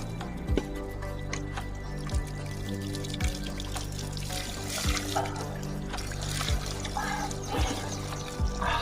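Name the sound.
small trickle of water in a jungle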